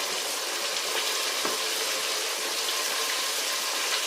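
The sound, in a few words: chicken frying in a pan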